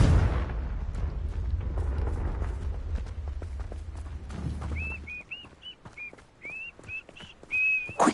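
A Confringo blasting curse cast in the Hogwarts Legacy video game, heard as a low, rumbling fiery roar with sharp cracks for several seconds, then a run of short, high, whistling chirps.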